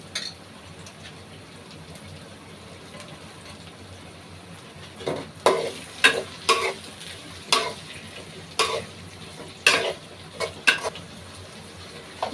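Sliced tomatoes and whole garam masala hit a pan of mutton with a soft sizzle, followed by bursts of scraping and stirring that come in uneven clusters over a low frying hiss.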